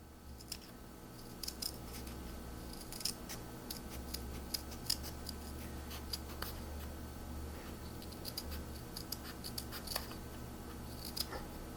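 Scissors snip through stiff felt while trimming a fiber pumpkin embellishment, giving a quiet, close series of crisp, irregular cuts over a soft background hum.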